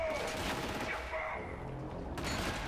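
Gunfire in Killzone Shadow Fall aimed at the player, a dense continuous barrage of shots with rumbling booms, loud and sustained throughout.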